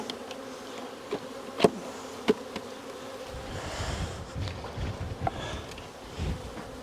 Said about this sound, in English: We got the bees here.